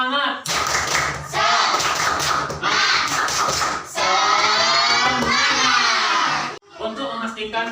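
A group of children in an Indonesian Islamic primary school classroom does a tepuk semangat clapping cheer: loud rhythmic clap patterns mixed with shouted chanting voices, close and energetic.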